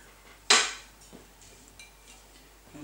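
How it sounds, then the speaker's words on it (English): A lid set down on a pot of simmering potato and leek soup gives one sharp metallic clank, followed by faint small knocks and a quiet kitchen background. "And let's put the lid on."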